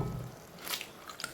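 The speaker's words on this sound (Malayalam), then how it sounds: "മുട്ട പൊട്ടിച്ചൊഴിക്കുന്നേ." An egg is cracked and poured into a pan over spiced kothu chapati, giving a soft wet squish and a couple of quick cracking ticks, faint and close.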